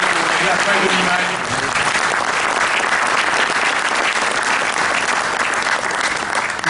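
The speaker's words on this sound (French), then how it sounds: "j'aimerais bien applaudir très fort Fabrice" Audience applause at a volcanic wine congress and trade fair, a dense, loud, steady wash of clapping from a large crowd that holds for the whole stretch and eases off only slightly toward the end.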